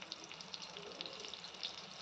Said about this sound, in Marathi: आणि मिरची व्यवस्थित परतून घ्यायची आहे